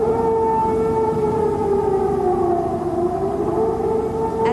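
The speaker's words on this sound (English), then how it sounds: "the sirens screamed" A loud air-raid siren wails steadily during the 1991 Gulf War, its pitch slowly dipping and rising again, with no voices over it.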